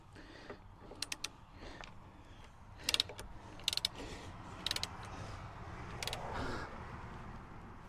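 Bolts being snugged up with a ratchet, a series of short, crisp clicking bursts at intervals over a low background hum, close by and without talk.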